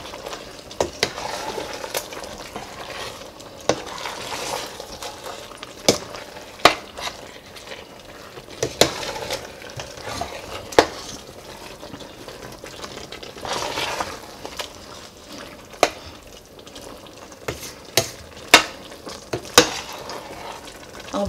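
A spoon stirs Nigerian efo riro vegetable soup in a pot with a steady soft sizzle underneath. Irregular clinks and scrapes against the pot sound close by throughout, with no voices.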